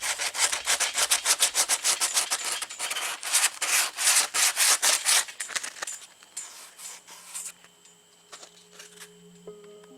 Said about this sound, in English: I'm finna take my sandpaper and I'm finna just bevel my ends off